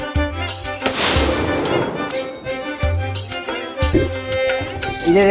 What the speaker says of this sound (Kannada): 12 ಗಂಟೆಗೆ ನಮ್ಮ ಮನೆಯ ಅಂಗಳಕ್ಕೆ ಬಂದು ಪಟಾಕಿ ಹೊಟ್ಟಿಸಿದ್ದಾರೆ